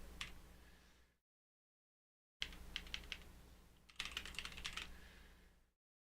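Quick bursts of computer keyboard typing, crisp close clicks and key taps, broken by a short silent gap and ending with a denser flurry of keystrokes.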